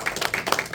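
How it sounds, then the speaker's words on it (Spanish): A church congregation applauds the Lord during a sermon, with a brief burst of dense, close clapping. "¿No le dan un aplauso usted al Señor?"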